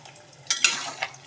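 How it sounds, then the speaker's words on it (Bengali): A spoon stirs a curry of banana stem, pumpkin and potato in an uncovered pot, making a quick burst of wet scraping and shuffling with a final clink, close and brief. "একবার নেড়ে দেবো, ওপর নিচ করে দেবো সবজিগুলোকে"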